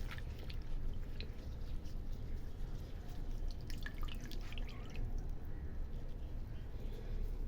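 Water drips and trickles in quick, irregular close drops as rose petals are squeezed by hand, over a steady low background hiss.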